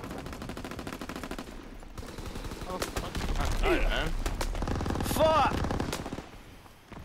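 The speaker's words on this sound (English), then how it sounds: "they're shooting from the bunker" Bunker gunfire in the Call of Duty WWII multiplayer video game, with rapid machine-gun bursts and scattered shots rattling under in-game voices and a player's brief speech, growing louder midway before trailing off.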